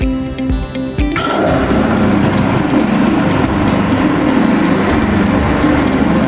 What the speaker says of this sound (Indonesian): untuk mengaktifkan mesinnya dilakukan penekanan pada tombol start system